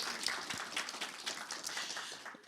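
Church congregation applauding during a sermon, a steady wash of many hands clapping at a moderate distance, continuous and even for the whole stretch with no voices standing out.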